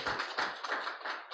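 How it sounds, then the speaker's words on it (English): An audience at a report launch event applauds, with a short burst of scattered, moderately close hand claps of uneven rhythm that continues without pause. "Please give a round of applause"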